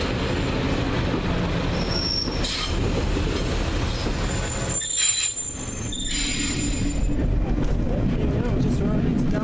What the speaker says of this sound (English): The unmistakable sound of a pacer bus.